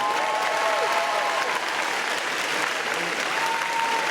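Thick, continuous applause from a crowd of about 4000 at a Wella hair show, loud and even throughout with faint voices mixed in.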